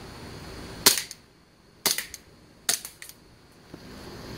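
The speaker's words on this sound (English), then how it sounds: "And test fire." A gun is test-fired at a target bottle outdoors: three sharp, loud shots spaced about a second apart, each followed by a short echoing tail, then a faint trailing click.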